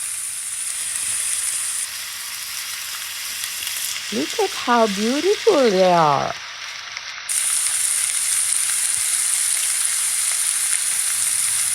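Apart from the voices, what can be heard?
pork chops frying in oil in a frying pan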